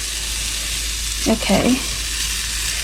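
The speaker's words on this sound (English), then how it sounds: "You can tell the pan's nice and hot because it's sizzling here." Pork and shrimp sizzle in a hot pan for Vietnamese banh xeo, a close, constant frying crackle with a brief stir of the food. A voice speaks briefly.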